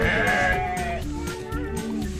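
Sheep bleat close by in a zoo enclosure in Phetchaburi, Thailand, a short loud call with other animal noise and someone talking alongside.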